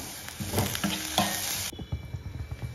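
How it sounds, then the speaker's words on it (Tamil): Chopped onions being mixed with salt in a bowl for cholam paniyaram batter, giving close, continuous stirring and scraping that turns quieter and softer partway through. "வெங்காயத்துக்கு மாத்திரம் உப்பு போட்டுட்டு நல்லா மிக்ஸ் பண்ணி விட்டுறணும்"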